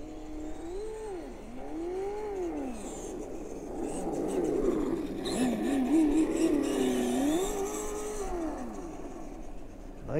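A Tamiya BullHead RC truck on a 2S battery, its big block motor whining and revving up and down in repeated swells, rising and falling in pitch, loud and close throughout.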